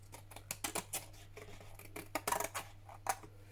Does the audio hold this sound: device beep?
no